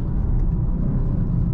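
A car engine held at full throttle gives off a steady, low, droning rumble that stays even and unbroken, with no voices over it.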